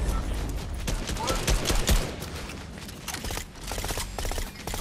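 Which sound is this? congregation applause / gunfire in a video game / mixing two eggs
gunfire in a video game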